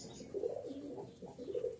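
Rajshahi Giribaz pigeons coo softly in a few low, rolling phrases close by, with no talk over them.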